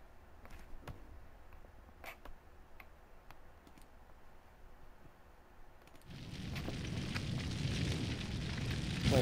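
Fire crackling and roaring in the SimCity 4 city-building game, starting faint amid scattered ticks and then swelling sharply into a loud, dense, steady burning rush for the last few seconds, with no talk.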